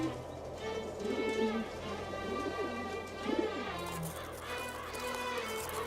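Pigeons or doves in the arid mountains around Mecca give soft, repeated cooing calls, close and clear over a steady tonal background.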